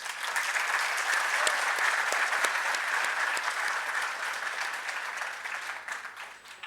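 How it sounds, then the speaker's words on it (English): An audience at a Pune forum on artificial intelligence gives an author a round of applause. Dense, even clapping holds steady, then gradually thins out toward the end, with no talking over it. "Please give him a big round of applause."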